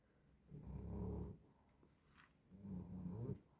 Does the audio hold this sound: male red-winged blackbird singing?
no